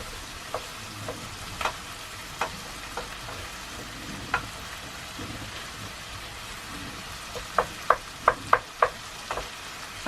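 Onions fry in a small pan on full heat, a quiet, steady crackling sizzle with occasional sharper pops that cluster near the end.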